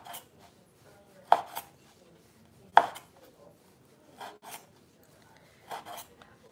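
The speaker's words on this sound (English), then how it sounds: "Some dry salami right over here, and just gonna cut a couple of slices." A knife slicing dry salami on a board, several crisp separate cuts spaced a second or more apart, each a short sawing scrape, close and fairly quiet with no talking.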